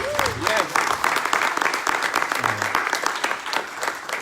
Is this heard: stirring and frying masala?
no